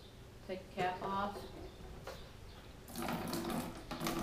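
Liquid pours out of the waste tank of a Dometic 976 portable toilet, a gurgling splash that swells into a steadier, louder stream toward the end, with a voice speaking briefly early on.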